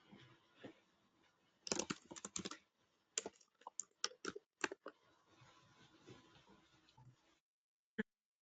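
Bursts of typing on a computer keyboard in a quiet room, with a few quick clusters of clicks separated by short pauses and a single last keystroke at the end.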